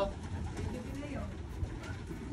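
Pigeons coo softly inside a pigeon loft, with a low, steady murmur under a voice, which carries most of the clip.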